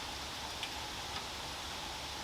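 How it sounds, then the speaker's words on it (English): Steady rain falls outdoors as a soft, even hiss that runs without a break, faint and distant, with two tiny drips or taps showing through and no voices. "It's raining."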